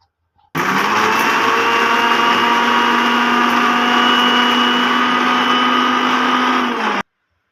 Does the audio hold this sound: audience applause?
no